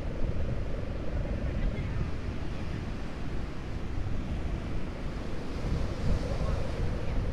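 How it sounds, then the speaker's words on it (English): Ocean waves wash and churn in a continuous low roar, with wind noise rumbling over the microphone throughout. "the sound of the waves"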